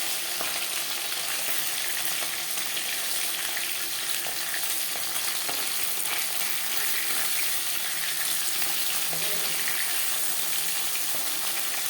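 Pabda fish fry in cooking oil in a pan, a dense continuous sizzle with scattered crackles and a faint stir or two, steady and close, with no voices.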